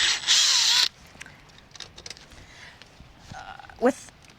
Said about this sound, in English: I'm using masonry screws because we're going into masonry